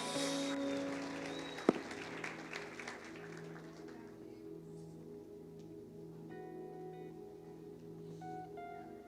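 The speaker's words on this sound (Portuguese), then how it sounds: "Salva de palmas." A church congregation at an Easter service claps, a steady wash of applause that keeps going throughout, with one sharp clap standing out early and tones from an organ or keyboard underneath.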